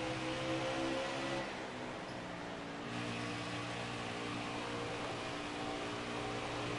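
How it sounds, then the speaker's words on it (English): Racing truck engines in the NASCAR Heat video game drone in a steady, dense mechanical roar with layered humming tones, a constant loud wash that dips briefly near the middle before resuming. "I like the sound of the trucks."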